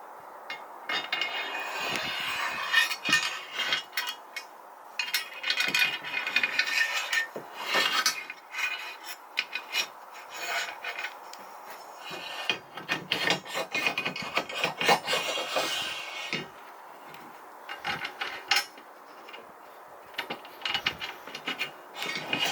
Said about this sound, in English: So now to slide in the channel and align it all.